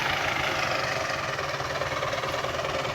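A Belarus tractor engine runs steadily while threshing maize in a field, giving a continuous loud mid-to-low rumble with a slight rhythmic knock.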